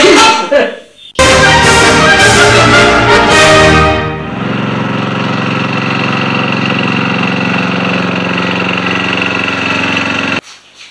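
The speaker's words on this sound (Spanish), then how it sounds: "Mantenga la motosierra en perfectas condiciones de trabajo" A chainsaw engine revs hard with a loud, raw roar, then drops back to a steady, buzzing idle for several seconds before cutting off abruptly.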